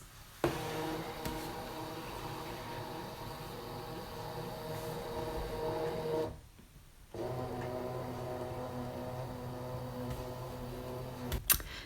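A ScanNCut cutting machine runs with a steady mechanical motor whine and hum, pausing briefly midway before resuming, with small clicks at start and end, heard close with no speech.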